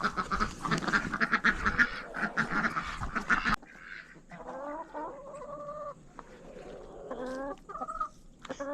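Chickens and roosters cluck loudly at first in a busy, overlapping chorus, then scattered softer clucks and calls continue from several birds nearby.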